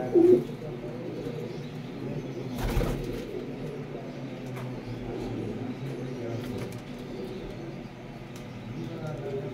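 Pocket pigeons coo in low, soft, repeated calls close by, while people talk over them and a brief rustle interrupts partway through.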